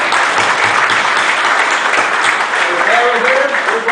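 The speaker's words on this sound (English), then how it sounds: "Round of applause for that" A men's conference audience gives a full round of applause, with dense, steady clapping throughout and voices mixed in underneath.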